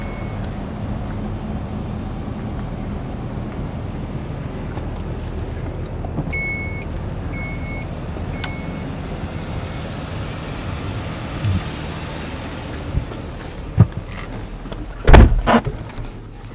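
The power tailgate of a 2012 Dodge Durango runs with a steady motorized hum under light ambient noise, with chime tones midway and a few thumps and clicks near the end as it latches.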